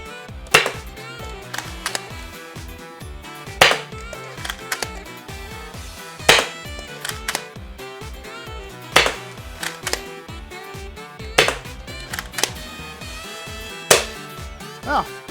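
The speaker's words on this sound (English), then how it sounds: "All right, 10 shots at the target, no rest, no anything else." Adventure Force Deuce Pro toy blaster firing freehand at a target, sharp snapping shots spaced about a second or two apart, with a mechanical clatter and music-like tonal backdrop running underneath.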